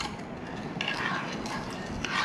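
Ginger being stirred in a pot on a stove, a faint scraping and clinking of a utensil against the pot, soft and close with a few brighter taps.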